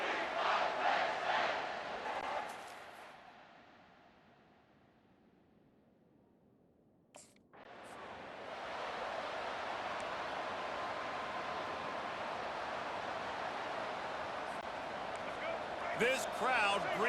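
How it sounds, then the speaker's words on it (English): Stadium crowd in EA Sports College Football giving a visiting team a loud welcome, a broad roaring wash that fades to quiet, then swells back and holds steady, with commentators' voices over parts of it. "This crowd bringing an ear-splitting welcome to their visitors."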